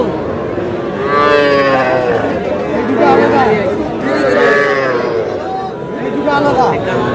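Several bull calves moo in long, drawn-out calls, one after another, over a busy background of chatter from a crowd at a cattle market in Madaripur.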